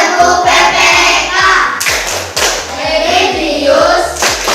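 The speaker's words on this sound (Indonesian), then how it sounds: "marilah kita bersama melakukan tepuk PPK" Classroom children chanting the PPK clap routine at a teacher's cue, voices in unison over a steady run of rhythmic hand claps, close and loud throughout.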